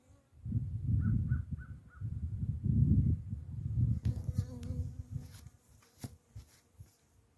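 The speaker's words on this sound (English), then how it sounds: "I see bees flying around." A low, droning buzz of bees swells and fades close by for several seconds on a farm in Maine in early spring, with a few short bird calls and some rustling later on.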